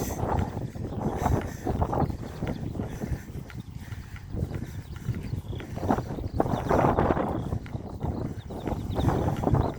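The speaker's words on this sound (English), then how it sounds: "But it's windy." Gusty wind buffets the microphone on an afternoon walk outdoors, rumbling in uneven surges that swell and fade, with no talking.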